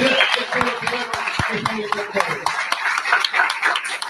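A crowd at a political rally claps in support of international solidarity, the applause dense and fairly close, with voices and a chuckle mixed in beneath the clapping throughout.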